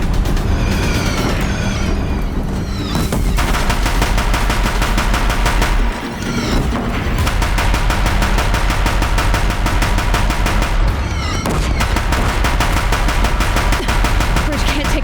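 Relentless loud gunfire from a Horizon Zero Dawn DLC battle on ultra hard: dense rapid automatic bursts over rumbling booms and game noise, barely pausing for a moment midway.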